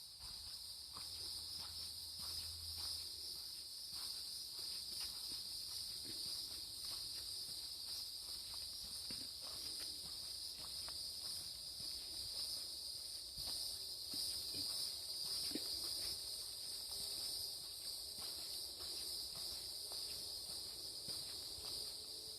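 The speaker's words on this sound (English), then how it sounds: "I don't know if you can hear the crickets." Steady, high-pitched chirping of crickets in an outdoor setting, continuous and fairly faint, with occasional soft footstep-like rustles beneath.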